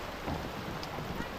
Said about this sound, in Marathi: इथं मग भिजवण्यासारखा जोरात आला पाऊस